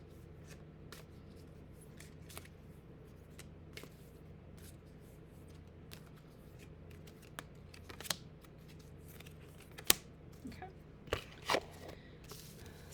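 Oracle cards are shuffled by hand close up, a soft continuous riffling with sharper slaps and flicks near the end, no speech.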